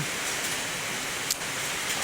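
Heavy rain pours down in a dense, continuous hiss that stays steady and close, with one brief sharper spatter midway through.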